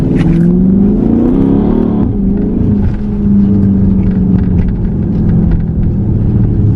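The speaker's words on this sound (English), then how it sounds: "You can definitely hear the car." A 2013 Dodge Charger SRT8 with a HEMI V8 revs hard, its loud, deep engine note rising, then dropping back into a rumbling, pulsing idle recorded close up.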